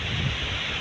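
Strong wind gusts outdoors during a storm, a loud continuous roar buffeting the microphone close up.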